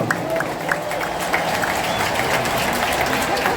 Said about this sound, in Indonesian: Tepuk tangan buat semua yang hadir di sini.